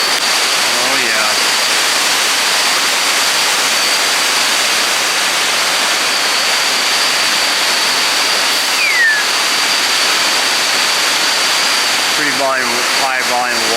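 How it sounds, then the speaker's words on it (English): Steady, loud roar of a high waterfall about 150 meters tall pouring a heavy volume of water into a swimmable pool in Lang Sang National Park, unbroken throughout with brief faint chirps near the end. "High volume of water. I think that's 150 meters for this waterfall."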